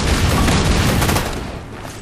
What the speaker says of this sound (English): Fuel rod cannon.